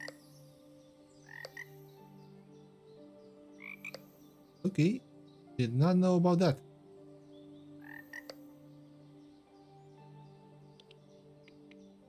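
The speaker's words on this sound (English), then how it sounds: "Oh, and look at that, we have frogs." Frogs croak in the cozy building game Pan'orama, a few short bursts of throaty croaking up close over a quiet ambient music bed, with a brief voice speaking nearby.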